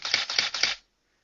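Nikon D3200 DSLR shutter firing at 1/4000 of a second, three quick, crisp mechanical clacks in an even rhythm, close and clear, then silence.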